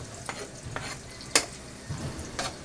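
Garlic sautéing in butter in a pan, with a soft steady sizzle broken by a few distinct scrapes and clinks of stirring, fairly quiet and close, no voices.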